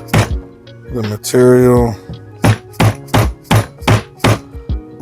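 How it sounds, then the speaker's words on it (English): A rusty old, freshly sharpened chisel is struck to chop out a mortise in wood, giving a steady series of close, sharp thunks at an even pace, with a person talking between the blows. "running your chisel down to chop out the waste."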